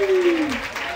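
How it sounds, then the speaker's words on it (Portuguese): Crowd applauding and cheering at a Brazilian freestyle rap battle, steady dense clapping throughout with a voice talking over it. "Muitas palmas, caralho"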